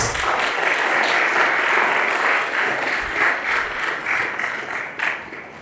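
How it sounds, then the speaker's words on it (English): Sustained audience applause fills a ceremony hall at an MOU signing event, steady dense clapping throughout with slight swells, no talk on top. "Let's give a big round of applause."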